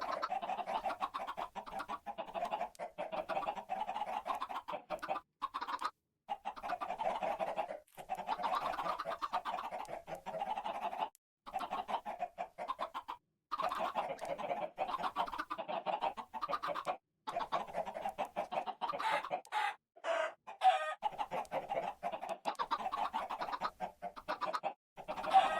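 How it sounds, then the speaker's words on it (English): Chickens in a video game cluck in a near-constant chorus of short, choppy calls that continue with brief pauses throughout, moderately loud and with no speech. "Oh, how many chickens"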